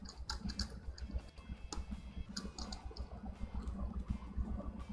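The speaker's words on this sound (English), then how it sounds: "I'm typing in now" Fingers tap out a burst of quick, uneven keystrokes on a computer keyboard, close and fairly quiet, with brief gaps between clusters of clicks and no talking.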